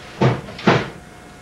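Two firm knocks land on a door during a stage play, close and distinct, roughly half a second apart, with a quiet room around them.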